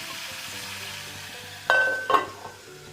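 Dried shrimp and bilimbi stir fry cooking with coconut in a pan, giving a steady low sizzle with a couple of sharper scraping stirs near the end, close and moderately loud with no talking.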